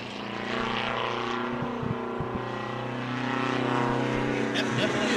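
Big rig race truck engines drone steadily on an oval track, a loud, continuous, harmonic roar that swells slightly toward the end with no break.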